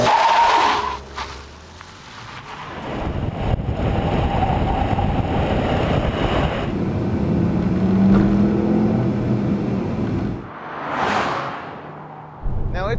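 A VW Turbo Beetle starts and pulls away toward the hills, the engine note rising and swelling through acceleration with road and wind noise, then a brief lull and another surge; a voice speaks partway through.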